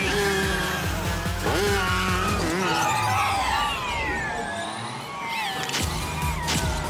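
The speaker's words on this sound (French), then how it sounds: "Et c'est le kart vert, le petit marché de Pétunia, qui prend la tête" Cartoon go-karts race in a LEGO Friends animation, engines whining loudly and continuously with pitch sweeping up and down as they pass, over a busy bed of music and effects.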